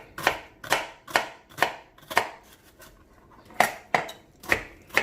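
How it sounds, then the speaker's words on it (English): Knife chopping half an onion on a cutting board while making jollof rice, about ten sharp, fairly regular chops in two bursts with a short pause between, close and alone. "Chop it on the board."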